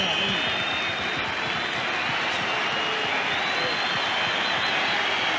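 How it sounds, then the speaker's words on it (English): A stadium crowd at a 1983 Queensland versus New South Wales State of Origin rugby league match applauds as a player leaves the field, a broad, steady roar of clapping that stays loud throughout. "he gets a tremendous reception from the crowd"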